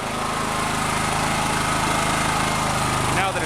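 A Honda EB5000 5000-watt, 11 hp gas generator runs with a loud, steady, close-up exhaust drone and a constant low rumble that holds evenly throughout.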